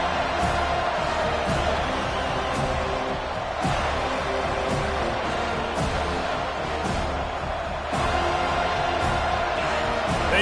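A packed football stadium crowd at a Miami versus Florida State game roars in a steady dense wash of cheering, with scattered thumps and claps rising through it.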